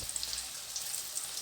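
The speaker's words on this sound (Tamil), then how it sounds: "இப்போ நம்ம சீவி வச்ச கிழங்கு எடுத்து நல்லா பரவலாக அந்த எண்ணெயில் போட்டுடலாம்." Thin cassava slices dropped into hot oil give a steady, fine crackling sizzle, like light rain, close and continuous with no voices.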